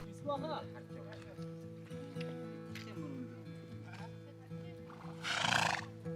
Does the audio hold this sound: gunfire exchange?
no